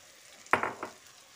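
Soaked, squeezed soybean chunks stir-fried with spices in a pan, heard as a short burst of sizzling and two or three quick scraping stirs, close but fairly quiet.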